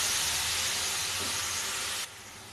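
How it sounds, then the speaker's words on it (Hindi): Onions frying in a pan for a mixed vegetable dish, a loud, dense, steady sizzling hiss close by that drops off abruptly near the end. "अब प्याज को भी फ्राई करेंगे"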